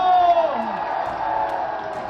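A large crowd at an outdoor political protest rally cheers and whoops in a loud, continuous mass of raised voices, with shouts rising over the din.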